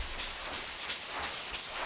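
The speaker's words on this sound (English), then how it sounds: "I'm trying to take long strokes all the way to the top of the area I'm sanding" Car bodywork is block sanded by hand with sandpaper in long, light strokes, a close, steady rasping hiss that swells and fades in a regular back-and-forth rhythm with no talking.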